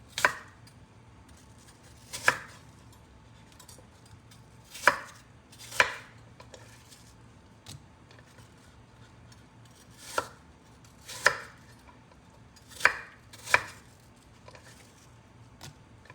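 A knife chops apples into quarters for apple pie, with sharp, separate thunks against a cutting board coming at irregular intervals, close and fairly quiet with no talk.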